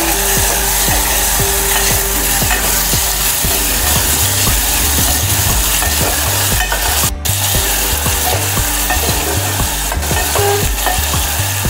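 Finely chopped tomato goes into a pan with browned garlic and curry leaves, a loud constant sizzle with regular scraping stir strokes close up and no talk.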